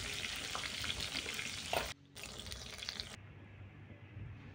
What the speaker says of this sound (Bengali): আবারও আমি বেশ কয়েকটা ব্যাচে আমি বেগুনগুলোকে ভালো মতো ভেজে নিচ্ছি।